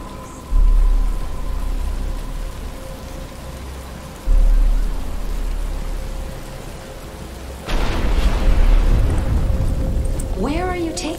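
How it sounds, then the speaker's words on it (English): Steady rain falls in a Batman Arkham Asylum cutscene, a dense hiss with low rumbling that swells louder toward the end, a voice briefly audible over it. "But it's starting to rain."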